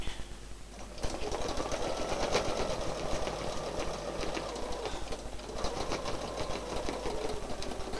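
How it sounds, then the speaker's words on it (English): A sewing machine runs an overlock stitch in a continuous, rapid mechanical whir with a rhythmic chatter, loud and near, briefly easing off midway before picking back up. "Come down, overlock a few stitches, cut it off."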